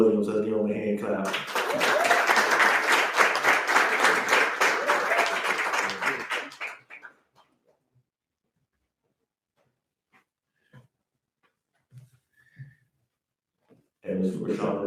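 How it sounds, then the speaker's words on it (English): Graduation audience applause, steady and fairly loud for several seconds before cutting off into near silence, with faint scattered noises and renewed clapping or crowd sound at the very end. "And last but not least, Mr. Stephen Williams, let's give him a hand clap."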